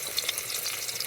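Onions hit hot oil with popped mustard seeds for a karuvattu kulambu: a soft, steady sizzle and crackle, faint and continuous, with no talking.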